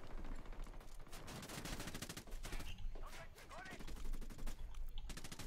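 Gunfire in Ghost Recon Wildlands, dense bursts of rapid automatic shots and scattered single cracks crackling throughout, mixed with game noise and some talk.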